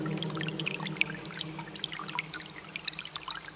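Water spilling steadily over the edge of an infinity pool at a tropical mansion, a soft continuous trickle and pour with scattered bright droplet splashes, moderately close and alone.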